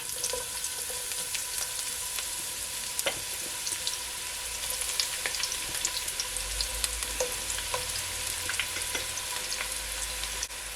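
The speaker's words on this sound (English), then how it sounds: "So now that my oil is all heated up, I'm gonna add my onion first." Onion sizzling and frying in hot olive oil in a pot, a steady faint crackle running throughout with scattered small pops and no talking.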